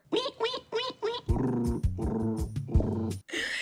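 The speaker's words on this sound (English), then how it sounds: "You don't growl at Coco's birthday" A dog growls and grumbles in several close, low bursts, with a few whimpering yips between them.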